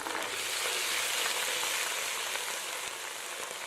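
Ginger and garlic paste fry in hot oil with browned onions for Lahori chikar cholay, giving a steady, even sizzle with no talk over it.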